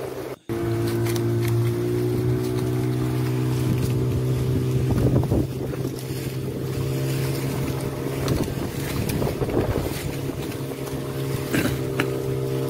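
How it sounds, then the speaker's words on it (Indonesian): A pleasure boat motor runs steadily and loudly throughout on the sea off the Indonesian coast, a constant low droning hum with wind buffeting the microphone. "ini perahu pesiar"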